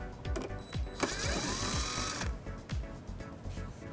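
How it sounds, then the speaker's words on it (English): Ratcheting and impact-style tool bursts remove an 8mm-socket screw behind a rear reflector on a 2013 BMW X5 during a hitch install, repeated short mechanical whirs and clicks close up with a sustained high whine in the middle. "it exposes this screw that we'll remove using an 8mm socket"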